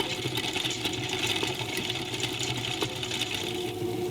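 A machine grinds roasted peanuts into paste with a steady whirring, rattling mechanical drone that holds unbroken throughout.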